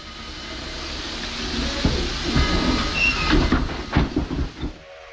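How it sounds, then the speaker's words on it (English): A vintage steam train at Rockwood, Tennessee, rumbles and hisses to a halt for a photo run-by, its steady low roar giving way to clanks and bursts near the end, heard from trackside. "Despite a high green, the train stops for a photo run-by at Rockwood"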